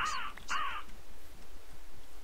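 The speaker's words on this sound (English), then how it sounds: "I didn't even do anything to that bird." Inside the Minecraft video game, a bird gives two quick harsh caws in succession at the start, fairly near, followed by a low steady hum with no talking.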